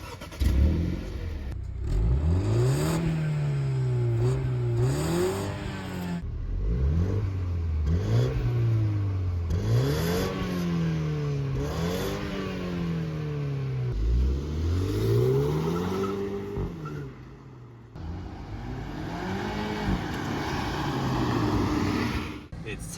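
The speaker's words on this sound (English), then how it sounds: "let's start her up, hear the exhaust, and test that 0 to 100 time with launch control." A BMW 128ti front-wheel-drive hot hatch revs hard under launch control and accelerates, its engine and exhaust rising and dropping in pitch through repeated loud gear pulls, close and continuous.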